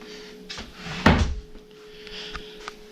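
A hotel room drawer gives one sharp, close wooden thunk as it slides shut, with fainter bumps and rattles of handling before and after it in a quiet room.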